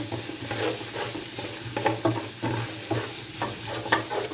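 Chicken vegetable macaroni with green onion being stirred in a pan, a steady sizzle with repeated scraping strokes of the spoon at a relaxed, uneven rhythm, close up with no talking.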